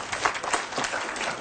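Audience applause at a 2008 Future Wisconsin conservative conference, a dense, steady wash of many hands clapping through the whole stretch, with no voices standing out.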